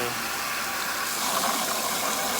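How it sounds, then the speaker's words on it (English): Water gushes steadily from a hose into a bucket, a continuous broadband rush that grows slightly fuller and brighter partway through as the bucket fills, with no talking over it. "I'll go ahead and fill up with water"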